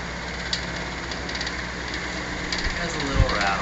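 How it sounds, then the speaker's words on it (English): An old Diehl electric fan runs at high speed, a steady close whirring drone with a faint irregular rattle from slightly unbalanced blades and a few soft knocks. "It has a little rattle, but that's the fan blades are not quite balanced"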